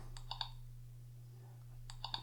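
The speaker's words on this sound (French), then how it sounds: "Vous avez vu le clavier, là, il fait du bruit." A home alarm system keypad gives off short electronic key beeps, two quick pairs at the start and two more near the end, faint and close over a steady low hum.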